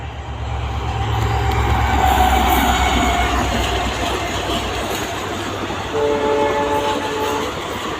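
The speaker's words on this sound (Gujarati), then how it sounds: "આવી ગઈ છે રેલગાડી, હમણાં આવી છે" A train rumbles past a forest loudly and steadily, wheels clattering on the rails, with sustained horn-like tones near the end.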